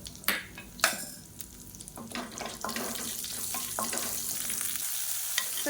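Mustard seeds, broken red chillies and curry leaves crackle and sizzle in hot oil for a chutney tempering, with sharp spattering pops over a steady fry close by, then a brief lull; no one speaks.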